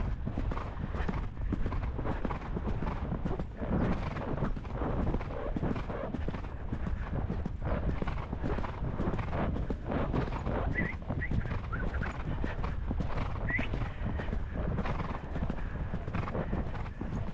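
Horse hooves clip-clop steadily on a snowy trail ride with a temperamental former racehorse, a continuous muffled rhythm close to the rider under wind and movement noise.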